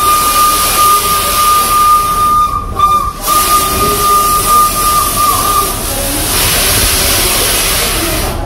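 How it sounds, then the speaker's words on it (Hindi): Steam whistle of the heritage steam locomotive EIR 21, the world's oldest working steam engine, on a heritage run between Chennai Egmore and Kodambakkam: one long, loud, sustained whistle over steady steam hiss, then continuing hiss and engine noise. "सीटी की सुंदर ध्वनि आपको उन दिनों से भाप लोकोमोटिव के समय"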